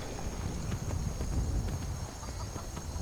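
Horse hooves clip-clop at a steady walking rhythm in Skyrim Special Edition, with chicken-like clucks mixed into a constant mid-distance game ambience beneath.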